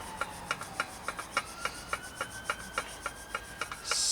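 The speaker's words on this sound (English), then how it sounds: "You just go over the frame, right, with a bit of wire wool." Wire wool scrubbed over an old, rusty and dirty bicycle frame, making a steady run of about fifteen short, evenly spaced rasping strokes, close and fairly quiet with no voices.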